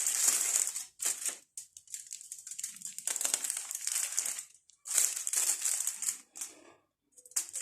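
Aluminum foil being cut and crinkled up close: a series of crisp, crackling bursts separated by short pauses, with no voices.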